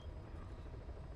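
Steady whirring helicopter rotor and engine drone in Metal Gear Solid V, continuous and fairly close throughout with a low rumbling pulse and no talking.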